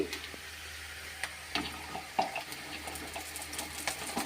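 Onions sizzling in a pan while cooking cabbage poriyal, a steady low frying hiss broken by light scattered clicks and stirring taps, close and moderately quiet, with no talking.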